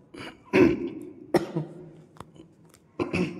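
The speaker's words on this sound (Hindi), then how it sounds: "खांसी भी आने लगी है" Several harsh coughs and throat clears come in separate bursts, close to the listener, with short pauses between them.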